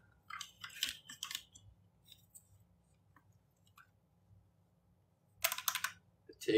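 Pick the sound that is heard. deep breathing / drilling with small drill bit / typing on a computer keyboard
typing on a computer keyboard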